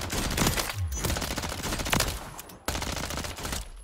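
An SMG fires in Warzone 3, loud rapid automatic bursts crackling in quick succession, with a short break before another long burst.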